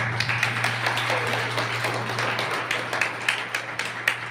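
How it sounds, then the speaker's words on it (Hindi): Satsang audience applauding a guru, a dense wash of many hands clapping that thins toward the end into scattered individual claps. "गुरु जी महाराज के लिए जोरदार तालियां"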